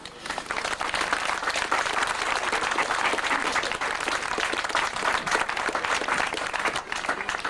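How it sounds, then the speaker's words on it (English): A crowd at a Darwen Tower centenary celebration gives a long, dense round of applause for Eric Hatton, steady and loud throughout with no talk over it. "I'd just like a big round of applause for Eric Hatton"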